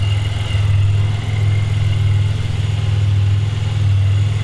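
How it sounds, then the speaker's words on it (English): A Pontiac Grand Prix engine idles steadily after a new radiator install, a continuous low, even drone close by with no talking. "Now I'm just doing just let it idle, come to temp, have the fans come on, make sure there's no leaks"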